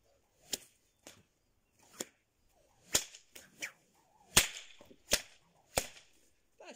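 A long, heavy-handled whip cracks in sharp, isolated snaps, about a dozen spread irregularly with a few quick doubles, each crack loud and close against a quiet background.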